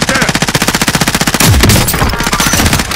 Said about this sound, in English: See where he's shooting you from.